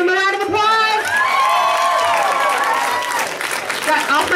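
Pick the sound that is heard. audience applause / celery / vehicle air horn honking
audience applause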